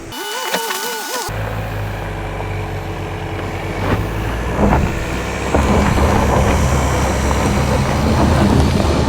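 A 2023 Ford Escape Platinum AWD labours up a steep off-road test hill with its wheels slipping, a steady engine drone building and growing louder and rougher, with bursts of rising revs as the tyres spin.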